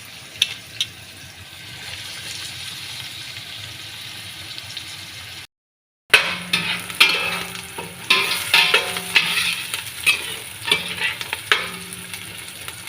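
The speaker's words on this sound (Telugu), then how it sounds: "ఉల్లిపాయలు అయితే వేగుతున్నాయండి, మగ్గపడుతున్నాయి కదా." Chopped onions sizzle quietly in a pan at first, then after a brief gap the frying grows louder, with spoon scrapes and stirs clattering irregularly over the hiss.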